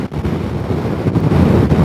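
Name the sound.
strong mountain wind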